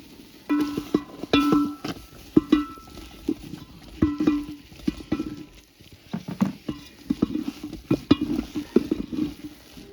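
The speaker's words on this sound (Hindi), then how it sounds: "थोड़ा सा चावल का आटा ये भी थोड़ा थोड़ा करके डालना है बीच बीच में और इसको अच्छे से मिक्स कर लेना है" A spoon stirring chicken harisa with rice flour in a pot, irregular scraping and clattering strokes in uneven bursts, close and moderately loud, with brief quiet gaps.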